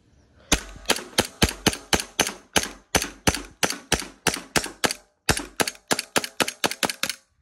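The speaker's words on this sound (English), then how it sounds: "So let's shoot it again." A Glock 9x gas airsoft pistol fires a long string of sharp, close cracks at a fast, even pace, one short pause partway through, with no voices.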